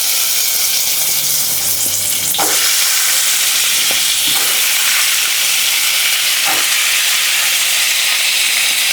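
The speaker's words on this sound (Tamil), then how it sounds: "அடுத்தது வெட்டி வச்சு கிழங்கு போட்டுக்கலாங்க" Cut sweet potato pieces drop into a hot pan with asafoetida, setting off a loud, dense sizzle that carries on steadily, broken by a few sharp stirring scrapes.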